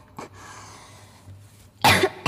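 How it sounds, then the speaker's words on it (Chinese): A loud, close cough bursts out near the end, after a fainter earlier cough, from a person on an indoor livestream. "对不起，我咳嗽好大声哦"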